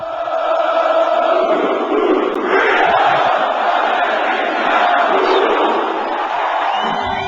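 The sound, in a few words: crowd chanting at Amway rally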